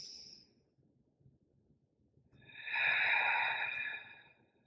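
A single audible breath in during a Pilates mobility exercise, a soft airy inhale swelling up after a quiet pause, close and alone without talk.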